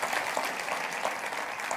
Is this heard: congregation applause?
yes